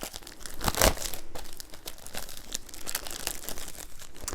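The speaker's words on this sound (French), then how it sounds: "il est encore emballé donc pourquoi pas l'ouvrir avec vous" Plastic wrap is torn and crinkled off a comic book volume up close, with a run of sharp rustles and crackles, one louder rip near the start, then lighter irregular crinkling.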